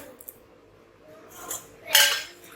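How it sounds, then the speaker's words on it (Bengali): Metal plates, pots and cutlery clink and clatter in a few short bursts as dishes are scrubbed in a home kitchen, the loudest rattle coming near the end, with quiet pauses between. "এখন আবার এগুলো জমলো এগুলো মাজবো"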